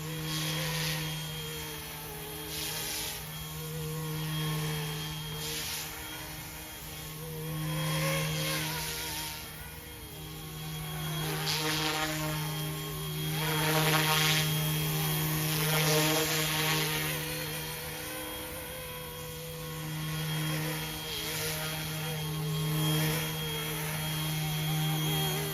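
A Bell OH-58 RC helicopter flies nearby, its electric motors giving a steady whine with a low hum, swelling and fading in waves as it moves, the tail motor's tone audible but not loud; no one speaks.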